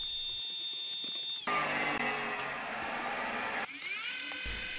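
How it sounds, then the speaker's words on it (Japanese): A machine tool center-drills a hole in a metal cam bearing holder for a four-cylinder Honda Monkey engine build. It gives a high, steady whine that shifts pitch sharply as the cut changes, loud and close, with no talk. "基本通りセンタードリルから進めていきます。"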